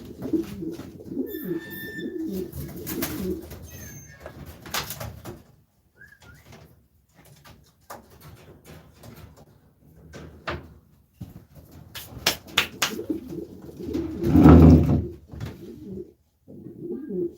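Irish pigeons coo softly and intermittently nearby, with scattered knocks and shuffling sounds in between and a louder burst near the end.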